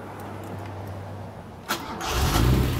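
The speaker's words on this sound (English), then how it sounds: "I have not started this car today, so I have complete faith in my ability that this car is going to start for you guys stone cold" An Alfa Romeo GTV6 is started stone cold: after quiet background, a click, then the engine cranks and catches into a rough, building idle, close and moderately loud.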